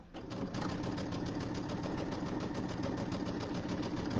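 Embroidery sewing machine stitching steadily, with a fast, even mechanical chatter that stays close and constant throughout and has no speech over it.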